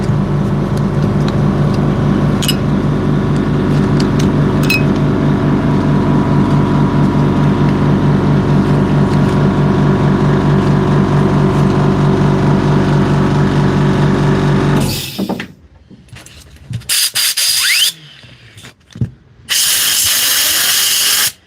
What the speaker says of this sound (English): Just put on the compressor there